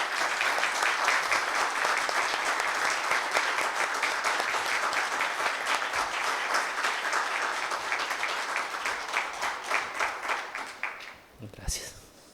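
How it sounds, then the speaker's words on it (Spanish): A university audience at an honorary doctorate ceremony applauds a doctor in attendance with loud, sustained clapping that gradually thins to scattered claps and fades out, followed by a brief voice. "quisiera que le diéramos un aplauso al doctor Carlos Prato acá presente."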